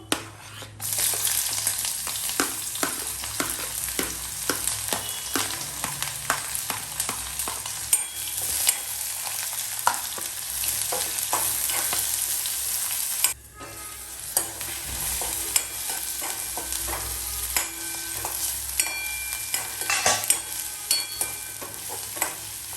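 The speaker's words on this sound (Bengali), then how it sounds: "একটু ভাজা ভাজা হয়ে গেলে এর মধ্যে কুচনো যে পেঁয়াজ আছে সেগুলো দিয়ে দেবো" Chopped onions fry in oil with whole spices, dried red chillies and bay leaf, giving a loud, continuous close sizzle with frequent clicking stirs of a spatula, briefly dipping midway before resuming.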